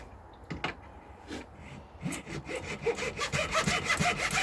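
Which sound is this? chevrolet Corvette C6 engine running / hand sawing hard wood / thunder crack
hand sawing hard wood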